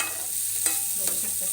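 Fish masala fries in a pan with a steady sizzle while being stirred, a couple of scraping strokes standing out, close and alone.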